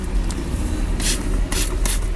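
A hand spray bottle mists fermented rice water pesticide onto garden plants, giving three sharp hissing bursts, one longer then two shorter in quick succession, over a steady background rumble.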